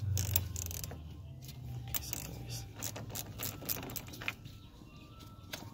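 A wrench ratchets in quick repeated clicking bursts while loosening the negative battery terminal on a 2014 Toyota Corolla, close and clear with no talk.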